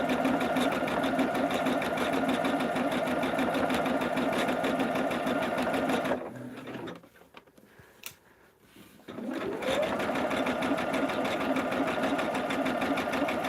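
Sewing machine stitching a quilt runs steadily and loud with a dense mechanical whir, stops for about three seconds, then starts up again and continues.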